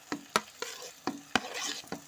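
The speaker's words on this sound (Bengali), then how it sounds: "ফুলকপিগুলো এখন সমস্ত মশলার সাথে আলু ফুলকপিটাকে ভালো মতো করে কষে নেব।" Potato and cauliflower pieces fry in spices while a spoon scrapes and stirs them in the pan. Several distinct stirring knocks sit over a steady soft sizzle, close and without speech.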